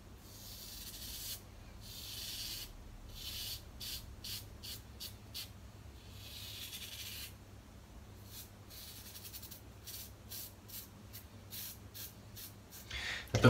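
A worn Kai razor blade dragging over stubble in quiet, close strokes, a run of short raspy scrapes and hisses with irregular gaps, soft and steady, ending with a louder knock.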